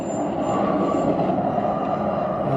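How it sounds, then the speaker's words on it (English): A train rumbles past on a railroad track in the Mojave Road desert area with steady broadband wheel noise, fairly close and continuous, no voices over it. "One of them choo-choo train trucks"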